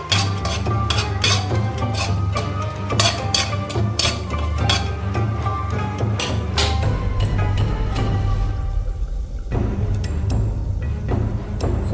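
A metal spoon stirs tempering spices in a cooking pot, making loud, close, rapid clinks and scrapes in a steady rhythm that slows and thins out toward the end.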